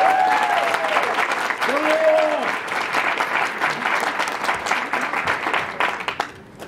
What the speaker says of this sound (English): I think we need one more round of applause for Liam.